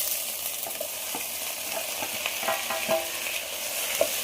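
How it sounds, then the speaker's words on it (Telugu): Tomatoes sizzle steadily in a hot frying pan as they are stirred, a close, constant frying hiss with occasional scrapes and taps of the spoon against the pan. "వేగిపోయినాయి, టమాటాలు వేద్దాం"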